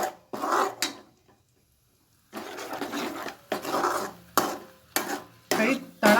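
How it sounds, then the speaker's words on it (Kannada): Ground masala paste fries and is stirred in a pan for a Punjabi-style dahi bhindi masala, with a soft sizzle broken by scraping strokes of a spoon and short bursts of stirring, close and moderately loud. "ಈಗ ಹಸಿ ವಾಸನೆ ಹೋಗೋ ತನಕ ಫ್ರೈ ಮಾಡೋಣ"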